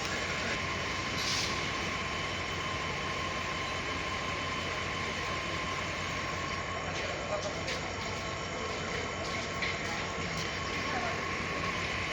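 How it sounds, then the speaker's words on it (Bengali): A freight train arriving at Tongi railway station rumbles steadily with a constant drone and faint metallic squeals, heard continuously with some voices in the background. "মালগাড়ি নিয়ে আসতেছে"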